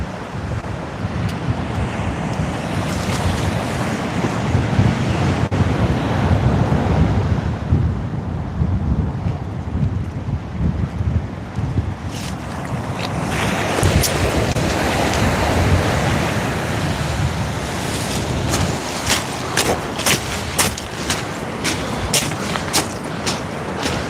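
Out at sea on a fishing kayak, wind buffets the microphone in a continuous roar while waves wash and slap close by, with no break in the noise.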